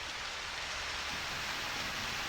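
Rain falls in the video game Harvest Moon: Back to Nature, a dense, even hiss that runs without a break and with no music or voices.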